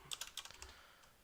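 Rapid typing on a computer keyboard, a quick burst of close, crisp clacking keystrokes that trails off into quiet, with no voice over it.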